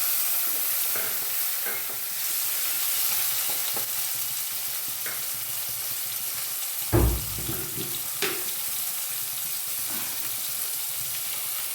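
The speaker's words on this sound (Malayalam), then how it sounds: "ഒരൽപ്പം ഉണങ്ങിയ കറിവേപ്പില എടുത്തുകൊണ്ടെന്ന് വെച്ച് ഉണങ്ങിട്ട് നമുക്ക് തക്കാളി ചേർത്ത് കൊടുക്കാം." Dried curry leaves and tomato fry in a pan with a continuous soft sizzle, light stirring taps, and one heavier thud and splutter midway as more goes in, close and with no talk.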